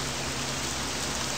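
Steady, dense rain falling outdoors in a video game, a continuous hiss of drops with no pauses, loud and close throughout the short stretch, with no talking.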